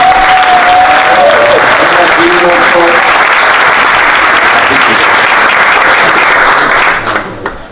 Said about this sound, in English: So we can just give a little, round of applause to these two ladies.